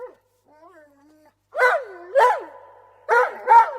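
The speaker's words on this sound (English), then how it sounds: "A dog rushed past me and shot down into the dungeon." A dog in a children's mystery audio drama whines with high, gasping whimpers, then lets out four loud, close, yelping barks in two pairs, with no talk over them.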